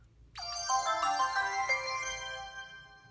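A Braille Sense U2 braille notetaker startup chime: bright electronic layered ringing tones rise and then hold steady, sounding clear and close, with no voices.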